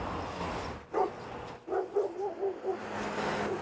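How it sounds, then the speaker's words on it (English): Dogs barking behind a fence in Southern California, a few distant yips and barks in a short irregular run, faint over outdoor background noise. "You can also hear the dogs barking"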